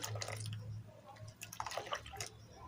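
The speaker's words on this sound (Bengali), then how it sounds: "এখন আমি একটা কাপড় দিয়ে ঘিটা বয়ামের কাছের বয়ামে ছেঁকে নেব" Homemade ghee made from milk is strained through a cloth into a jar, giving soft, faint drips and a light trickle of liquid, with no voices.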